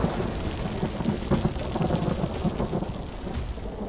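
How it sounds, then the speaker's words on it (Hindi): Torrential rain pours down during a thunderstorm, a dense loud hiss of rain with deep rolling thunder rumbling underneath throughout. "मूसलाधार बारिश।"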